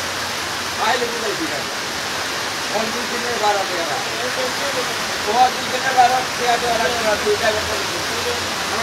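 Steady rain falling over Moulvibazar town, a continuous broadband hiss with faint scattered chirps and rustles, moderately loud and unbroken throughout.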